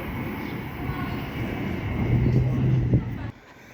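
A Pendolino passenger train on a Preston to London Euston service runs through Rugby station, a moderate rushing roar that swells toward the end, then cuts off abruptly.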